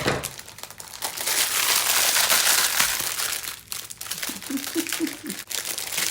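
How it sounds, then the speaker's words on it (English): Plastic packaging from a clothing haul being handled close up, loud crinkling and crackling in bursts with brief pauses, a few faint thin squeaks near the end. "Oh, sorry for the crinkling."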